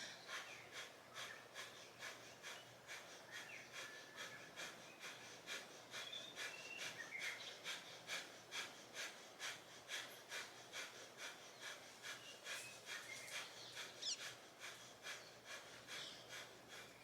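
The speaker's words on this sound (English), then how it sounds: "breath of fire, 30 seconds" Rapid rhythmic breath of fire breathing during a yoga flow, quick forceful exhales repeating steadily about twice per second, faint and close, with no talking.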